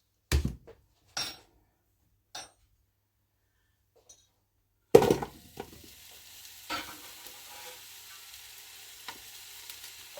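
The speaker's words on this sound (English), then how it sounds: "I do need to add just a touch more oil because we're going in with our onions" Onions tossed into oil in a Ninja 15-in-1 pressure cooker pot, preceded by a few separate clunks, then a sudden loud sizzle that settles into a steady frying hiss with occasional stirring knocks.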